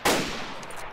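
A single gunshot in the video game DayZ, a sharp loud crack with a short fading tail, heard alone and close.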